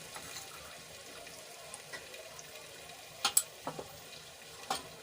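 Potatoes sauté in a pan for a Gujarati-style potato curry, giving a soft, faint sizzle with a few sharp clinks of stirring near the end.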